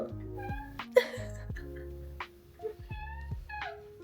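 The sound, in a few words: cat meowing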